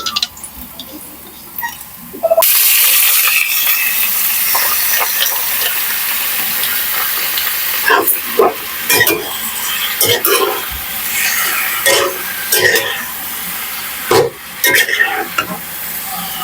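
Garlic and onion dropping into a hot pan for squid adobo, bursting into loud steady sizzling and frying with stirring and scraping, while a person talks over it.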